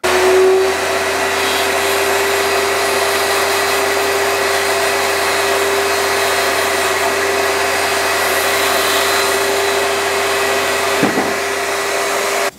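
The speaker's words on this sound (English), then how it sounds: "I'm going to turn the blade on, drop this down slowly with this tight against the fence" A table saw blade spins at a steady high whine while cutting a tenon shoulder in a wooden wheel hoe handle, held against the fence; the loud continuous drone runs throughout, with a brief knock near the end and no talk.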